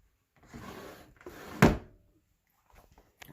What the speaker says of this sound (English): you can open up the cupboards